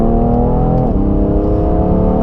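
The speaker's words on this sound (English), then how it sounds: "sounds awesome, has crackles in it, and even at low speeds has an awesome purr to the exhaust" A 2017 BMW M3 with the Competition Package idles and rolls along at low speed, its exhaust giving a loud, steady, deep purr with a slight dip in pitch midway. No distinct crackles stand out and there is no talk.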